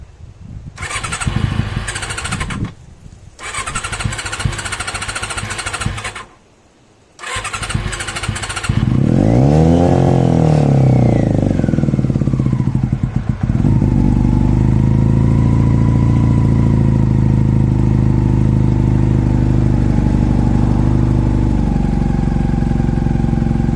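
A motorcycle engine cranks in several short bursts with brief pauses, then fires, revs up sharply and settles into a steady, loud idle close by, left running to burn the fuel out of its carburetors.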